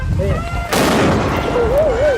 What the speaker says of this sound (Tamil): மண்டை மேல வெடிக்குது பட்டாசு